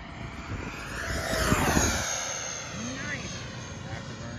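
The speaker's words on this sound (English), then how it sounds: "Nice. Afterburners, sweet." An E-flite SU-30 RC jet with afterburners makes a steady, fairly loud whoosh and whine that swells and fades as it flies past outdoors in Utah, with people talking over it.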